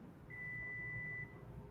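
A buzzer gives off a single thin steady tone lasting about a second, quiet over low room hum with no voices.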